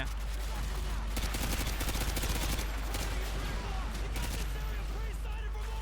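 Gunfire in the video game Call of Duty Modern Warfare 2: dense, continuous bursts of automatic shots layered over a loud, steady game soundtrack for the whole stretch.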